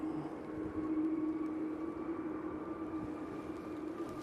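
A Ryanair airliner on its takeoff roll at Manchester Airport gives a faint, distant jet drone with a steady engine hum, holding even for about four seconds.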